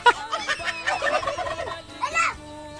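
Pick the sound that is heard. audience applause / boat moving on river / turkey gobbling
turkey gobbling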